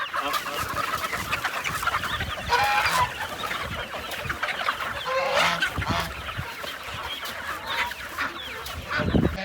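Backyard chickens cluck and squawk steadily while grain is scattered for them, with several birds calling close by in a busy, continuous chorus.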